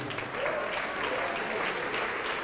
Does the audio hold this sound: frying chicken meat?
no